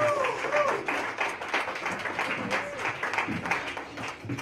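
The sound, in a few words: applause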